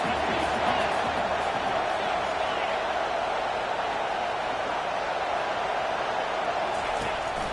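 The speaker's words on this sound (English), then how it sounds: "this crowd is tearing the lid off this place" Steady, dense roar of a packed stadium crowd at an LSU versus Texas football video game, a constant wash of noise filling the whole stretch without letup.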